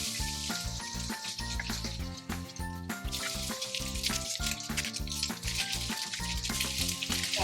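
Bacon fries in a pan on a stovetop at medium heat, a soft continuous sizzle running beneath a steady backing of melodic music.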